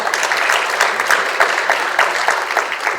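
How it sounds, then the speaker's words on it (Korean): An audience at a lecture event claps to welcome a speaker to the stage, a moderately loud, even patter of many hands that holds steady throughout. "큰 박수로 맞아주시기 바랍니다"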